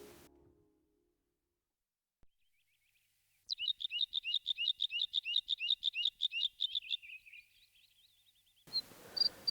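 Birds in the Kvarken archipelago give a rapid, rhythmic series of bright chirps lasting several seconds, clear and fairly close against otherwise quiet surroundings, followed by a brief burst of louder noise.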